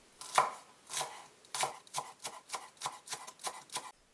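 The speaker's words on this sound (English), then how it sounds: "chop 4 cloves of garlic." Chopping garlic cloves with a knife on a cutting board: about a dozen crisp, close knocks in a loose, quickening rhythm, heard alone.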